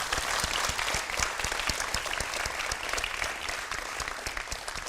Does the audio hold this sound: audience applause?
yes